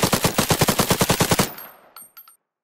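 An automatic gun in a Roblox game fires a rapid, even burst of about fifteen loud, close shots, then cuts off into a short decaying tail with a couple of metallic clicks.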